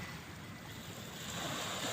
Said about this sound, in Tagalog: Maliit ang alon, maliit din ang tubig.